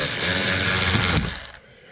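Power tool whirring steadily as it drives small screws into a Ford Maverick during an oil change, a close, continuous motor drone that cuts off abruptly near the end.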